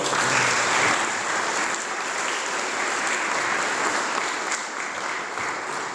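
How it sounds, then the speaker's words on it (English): An audience at a church flower festival opening gives a band a round of applause, a thick, continuous clapping that swells at first and then holds steady. "I think they deserve a round of applause"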